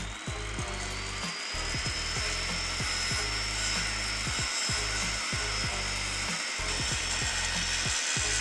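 Wood pieces for a workbench being cut with a power saw, loud and steady with repeated strokes and brief pauses between cuts, the motor whine running throughout with no talking.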